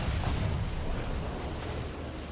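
A bomb blast in War Thunder ground battles booms loud and broad, then rolls on as a sustained low rumble with no clear separate hits.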